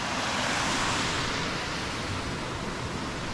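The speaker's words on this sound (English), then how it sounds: "This lovely little stream here." A small mountain stream on the Coast to Coast walk between Patterdale and Shap rushes steadily outdoors, a dense continuous wash of flowing water with a little wind, close and fairly loud.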